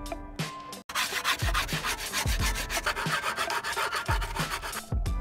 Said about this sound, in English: The only thing left to do was to give them a nice sanding job.